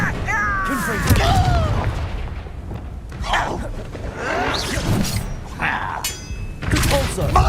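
Confringo explosive spell blasts in the Hogwarts Legacy video game, with repeated booms, shattering and thuds over several seconds, mixed with game voices and whooshing effects.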